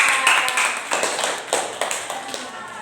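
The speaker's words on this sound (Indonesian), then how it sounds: "Tepuk tangan untuk kelompok 3." A small group in an Indonesian teacher-training session claps for about three seconds. The clapping is uneven and sparse, with distinct individual claps close by.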